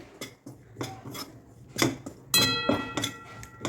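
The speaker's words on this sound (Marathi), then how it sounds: "आता आपण तुपात मस्त भाजून घेऊ बेसन" Besan (gram flour) roasting in ghee in a pan, heard as intermittent scraping and tapping of a spoon against the pan with faint background sizzle, close and fairly quiet.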